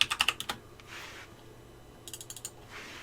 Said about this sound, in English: teaching people how to type faster, learn a keyboard, not have to look at the keyboard when you're typing.